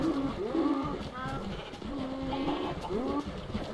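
A Minecraft cow moos several times in short bleating calls, each with a wavering pitch, spread through the clip over busy game noise.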